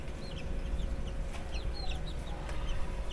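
Chickens, including a small rustler, cluck in short, scattered bursts over a steady low background rumble, moderately near, with no talk.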